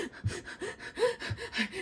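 Fast, shallow breaths imitating the hyperventilation of a panic attack, about six quick gasping inhale-exhale cycles in under two seconds, close and clear with no talk.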